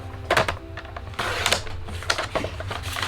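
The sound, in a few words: cutting cardstock for ornament gift card holder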